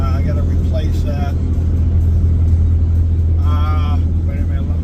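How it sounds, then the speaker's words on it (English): A truck rumbles past on the road, a loud steady low drone filling the whole stretch, with a person talking over it at moments. "let me let this truck go by"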